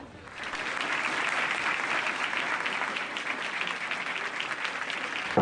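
More than 200 students applaud a Spanish author arriving at a high school auditorium of the University of Guadalajara, a dense, sustained wash of clapping that swells in quickly and stays loud and steady without talk.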